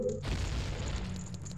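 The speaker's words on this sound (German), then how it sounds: "Oh, explodiert." A game explosion in Zelda: Ocarina of Time, set in Dodongo's Cavern, bursts as a single loud boom that rumbles and decays over a second and a half, cutting off a brief tonal game sound.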